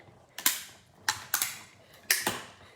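A die-cutting machine presses paper in a crafting session, producing sharp cracking snaps and creaky mechanical clicks in uneven pairs, close and moderately quiet.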